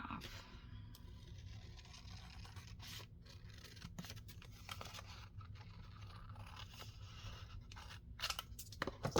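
Scissors snip and scrape through paper for an autumn junk journal, soft repeated crunching cuts close by, with faint rustling between them and no talk.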